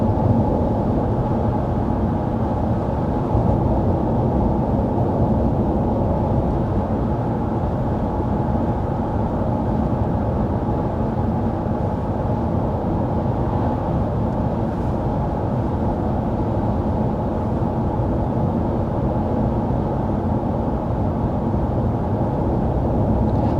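Steady, even road and wind hum inside the cabin of a 2025 RAM 1500 Tungsten with a turbocharged inline-six and the fan on its lowest setting, cruising at 55 mph, a constant low drone with no talking.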